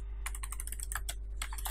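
Brisk keystrokes on a Razer Ornata Chroma keyboard come in quick clusters of sharp, close clicks, with a soft low hum underneath and no voices.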